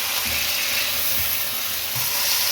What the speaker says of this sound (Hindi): अब चिकन को इसके अंदर मिक्स करें और थोड़ा सा इस मसाले के अंदर इसको साथ फ्राई कर लें।